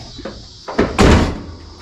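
The door of a Nissan 240SX under restoration swings shut with a loud, solid slam, preceded by a couple of lighter bumps as it is positioned, then a brief fading ring.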